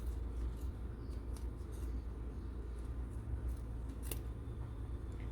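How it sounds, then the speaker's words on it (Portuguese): Scissors snipping through a crocheted amigurumi piece, a few soft quiet cuts close by over a steady low background hum, with no talking. "tá vendo onde entrou a tesoura? E é aqui que você vai cortar"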